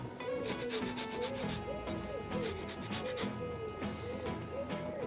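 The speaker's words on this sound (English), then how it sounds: "going to grate some orange" An orange is rubbed against a handheld grater, making rhythmic rasping strokes in quick bursts, close and fairly quiet over a faint steady background hum.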